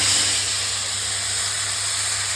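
Eggs dropped into hot oil tempered with cumin seeds and bay leaf, giving a steady, loud hiss of sizzling throughout, close up, with no talking.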